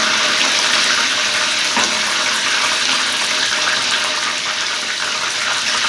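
Chicken frying in a pan for korma biryani gives off a loud, steady hiss and sizzle that runs unbroken from start to finish, with no voices.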